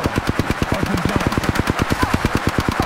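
Automatic gunfire in the video game Apex Legends rattles off as one rapid, even burst of about two dozen loud, close shots with no talk.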